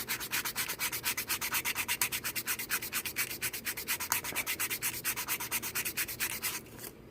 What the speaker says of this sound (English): Then you run your sandpaper over it.